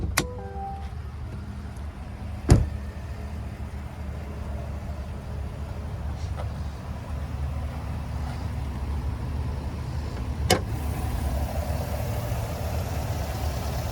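A 2023 Chevrolet Suburban High Country's 6.2 liter naturally aspirated V8 idles with a steady low rumble, joined by a couple of sharp clicks and bumps nearby, no voices.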